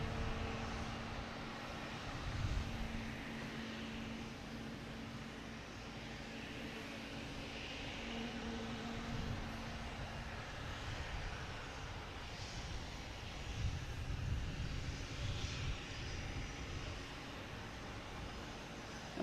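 A JetBlue A220 at Boston Logan Airport gives off a steady, distant jet-engine roar that swells and fades gently, as a broad hum with no voices.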